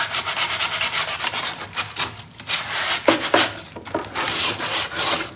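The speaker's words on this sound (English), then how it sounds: "you would use something like a sanding block" Steady scratchy rubbing of a fine-grit sanding block over a pumpkin wall hanging craft, in quick back-and-forth strokes with brief pauses, close and fairly loud.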